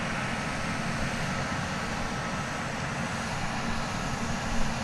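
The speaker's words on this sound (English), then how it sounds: "Airbus A321neo, another one coming in from Seattle" An Airbus A321neo airliner arriving at DFW Airport on a flight from Seattle makes a steady, broad jet roar at a distance that holds level throughout, with no voices.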